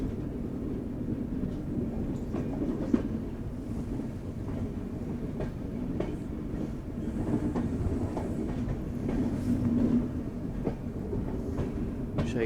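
Passenger train, the Uttar Sampark Kranti, running on rails with a steady, close rumble and faint rhythmic clicks throughout, heard from inside the carriage.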